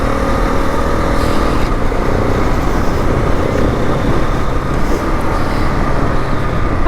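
A 2022 KTM Enduro 690, running an engine taken from the 690 Duke, roars loud and steady for several seconds while being ridden, its drone blended with heavy road and wind noise.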